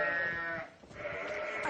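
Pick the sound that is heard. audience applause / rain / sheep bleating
sheep bleating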